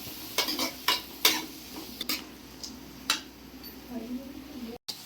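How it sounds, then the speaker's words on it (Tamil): Onions and curry leaves sautéing in hot oil for sweet corn kurma, a steady soft sizzle under a series of sharp spatula scrapes and taps against the pan, with talk in the background. "நம்ம வெங்காயமும் கருவேப்பிலையும் போட்டுக்கலாம். வெங்காயம் நல்லா வதங்கட்டும்."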